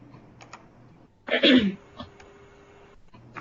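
A single short cough bursts out in a quiet room, brief and fairly close, with faint background rustle before and after.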